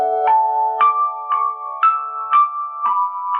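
Piano plays the third measure of a theme from Final Fantasy VII, a gentle melody of evenly spaced single notes over sustained lower tones, clear and alone.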